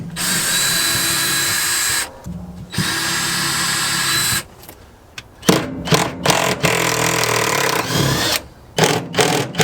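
A power drill running in long bursts while removing the driver's seat from a 1995 Jeep YJ, loud and close, stopping and restarting several times with short pauses and clicks between runs.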